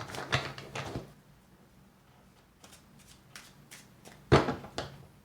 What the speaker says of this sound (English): Let's do 3 shuffles.